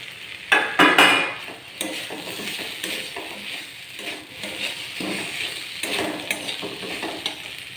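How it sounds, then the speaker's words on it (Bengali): Fried potatoes and peas are stirred with spices in a hot pan, with a spatula scraping and clattering against the metal over a continuous close sizzle, with louder knocks at the start and rhythmic scrapes after. "এরপর এতে ভেজে রাখা আলুগুলো দিয়ে দেব।"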